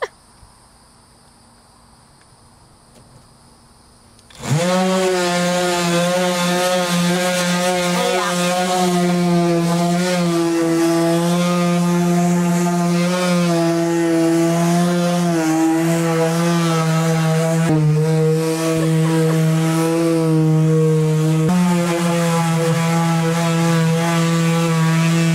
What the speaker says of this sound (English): I'm gonna add some extra brute force by whipping out my DeWalt sander